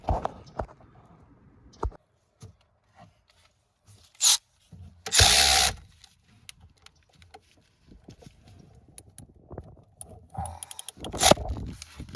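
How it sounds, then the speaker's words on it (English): A ratchet and socket work 12 millimeter bolts loose from a Lexus LS460 engine during water pump replacement, with sparse clicks, metallic clanks and short bursts of ratcheting separated by quiet gaps. "So I'm just gonna take the 12 millimeter bolts off now."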